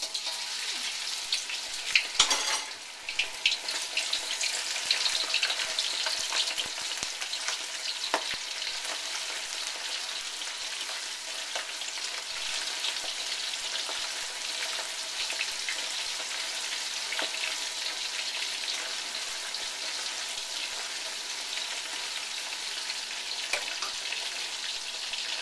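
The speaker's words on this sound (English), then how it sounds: "now I'm going to flash fry the shrimp" Cornstarch-dusted jumbo shrimp flash fry in oil for salt and pepper shrimp, making a steady, even crackling sizzle that runs the whole time, with a brief clatter near the start and no voices.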